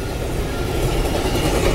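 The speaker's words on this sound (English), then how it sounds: "There's your fast train in the snow." A fast train rushes past in the snow, a steady loud roar of rolling wheels and wind with faint rhythmic rail clatter throughout.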